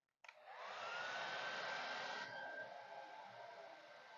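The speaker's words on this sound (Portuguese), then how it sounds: "o vento que sai muito forte do secador de cabelo" A hair dryer switches on and blows steadily on a wax candle with a loud airy whoosh and a thin whine, staying constant for a few seconds.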